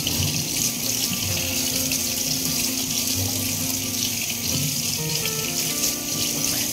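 Tap water runs steadily into a sink while a chalk paint brush is rinsed, bristles worked back and forth in the water; a continuous close splashing hiss with no voices.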